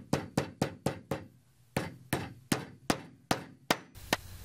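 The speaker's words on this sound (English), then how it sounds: "8 or 9 firm strikes should set each rivet" Hammer striking Alligator rivets into a belt, a steady series of about eleven sharp, loud metallic blows with short pauses, each ringing briefly before the next.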